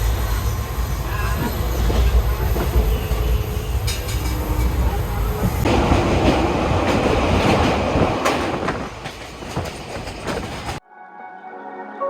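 Passenger train in motion, heard from inside among seated passengers: a loud, continuous rumble with rattling and clattering wheel noise that runs for about ten seconds before cutting off abruptly.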